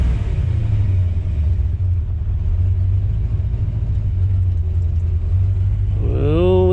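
A Jaguar S-Type engine idles with a loud, steady low rumble, then revs up sharply in the final moment as the car pulls away.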